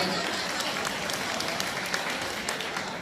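Crowd applause at a ceremony honoring a donor at the Suan Taeng city pillar shrine in Suphanburi, Thailand, a dense continuous patter of clapping that stays even and fairly loud across the short stretch.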